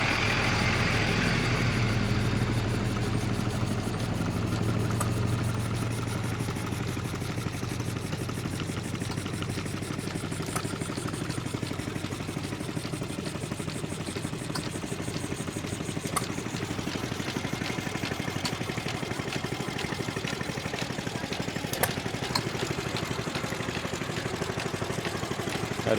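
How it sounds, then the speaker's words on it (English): Small kit-built model engines run steadily at an antique agricultural show, a continuous low mechanical hum and putter with faint clicks, fairly near and without talk. "Check out the little model engines."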